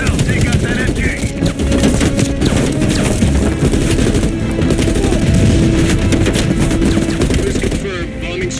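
Machine gun fire in Call of Duty Black Ops Cold War, taking out an MG: loud, continuous rapid gunfire with blasts and crashing effects, barely pausing, under brief game voices.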